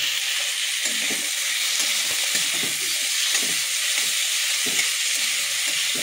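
Onions and tomatoes fry in hot oil in a pan, giving a loud, constant sizzle broken by soft, irregular stirring scrapes close by.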